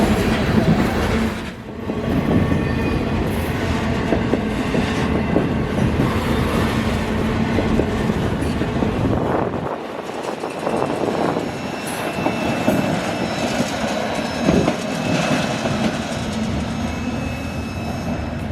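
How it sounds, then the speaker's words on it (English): Freight train Q648 rumbles past on an S-curve, a steady loud roar of engines and rolling wagons with clattering wheels that continues throughout, with no talk over it. "set up at this S-curve for 648,"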